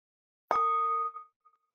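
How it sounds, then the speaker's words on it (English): A single bell struck once during a panel session, with a sharp attack and a clear, sustained ring that fades over about a second, heard alone in silence. "But I will invite a sound of the bell."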